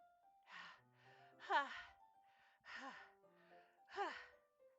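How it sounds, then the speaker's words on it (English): Sharp breathy inhales from a Doki Doki Literature Club game scene, three or four gasping intakes at a steady, uneven rhythm, fairly close and moderately loud, with soft background music beneath and no talk. "It sounds like breathing. A sharp inhale, like someone is sucking the air through their teeth."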